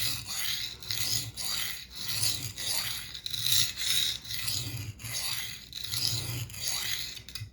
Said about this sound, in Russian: А до тех пор точим вот эту сторону, пока не появится заусенец по всей режущей кромке